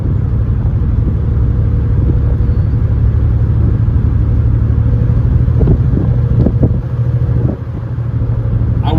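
A 1967 Ford Mustang convertible cruising, its engine a steady low rumble with road noise throughout, close and fairly loud, with a few brief knocks and a slight dip near the end.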